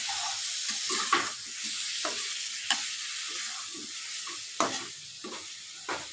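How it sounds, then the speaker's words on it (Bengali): Prawns and a few bay leaves frying in hot oil give a constant hiss, punctuated by the repeated clacks and scrapes of a spatula stirring through the pan. "ধুয়ে রাখা চিংড়ি মাছগুলোকেও আমি দিয়ে দিয়েছি একবারে ভাজা ভাজা হোক"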